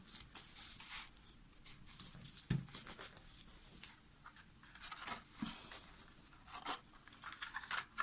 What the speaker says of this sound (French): Alors pour bien marquer les autres plis,